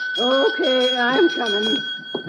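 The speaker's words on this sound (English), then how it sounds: "I'm sleeping, and he rings the bell." A hotel desk bell in an old radio drama rings as a steady, sustained metallic tone while someone talks over it.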